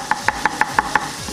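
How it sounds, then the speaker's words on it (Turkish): A knife chops fresh greens on a board in six crisp, evenly spaced strokes, close and clear with no talking. "Evet, yeşillikleri doğruyoruz."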